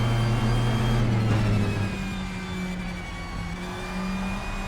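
A race car engine in the RaceRoom Racing Experience video game, driven at Spa through Pouhon, holds a steady high whine and shifts down in pitch partway through, loud and close with no voices.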